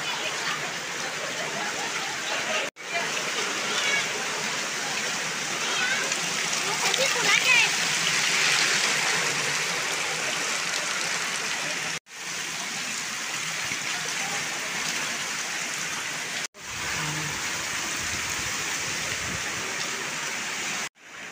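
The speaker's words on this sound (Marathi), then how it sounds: "पाणी पाणी येते" Water flows steadily near a bridge on the hill trail between Panhala, Pavankhind and Vishalgad, a broad rushing roar broken by a few abrupt cuts, with people talking over it.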